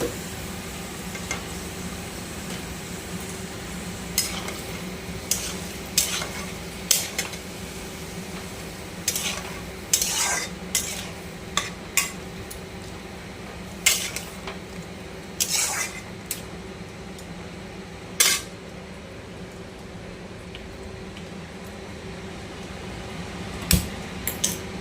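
A spoon scrapes and clinks intermittently against a pan while onions and spices for beef are stirred, over a steady low background hum with occasional soft sizzle.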